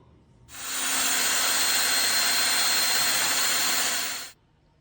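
A power tool drives blue Tapcon screws into a concrete wall while mounting a Tesla charger, giving one loud, steady whirring burst of about four seconds that starts and stops abruptly, with no talking.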